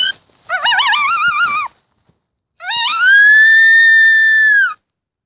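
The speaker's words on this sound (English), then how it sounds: "this is a chatter howl." Recorded coyote chatter howl predator call: a quick run of wavering, yipping high notes, a brief pause, then a long, loud, steady howl.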